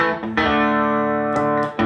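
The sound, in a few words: electric guitar through a clean boost pedal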